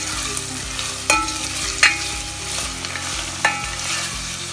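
Sliced onions with salt frying in a pan while being stirred, a steady loud sizzle broken by a few sharp scrapes of the spoon, close up and with no talk.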